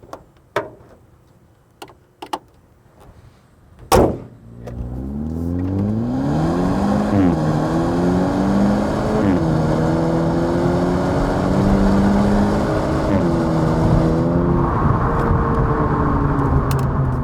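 A 2021 Hyundai Elantra N-line with a 7-speed dual-clutch transmission accelerates hard to 60 mph. After a few clicks and a thump, the engine roars up loudly and steadily, with rising pitch sweeps at each gear change.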